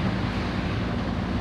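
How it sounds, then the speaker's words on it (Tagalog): Steady wind and sea waves at a shoreline, heard as a continuous, even roar of rushing air and surf with low rumble and no distinct breaks or voices. "May hangin-hangin ang konti, saka may alon."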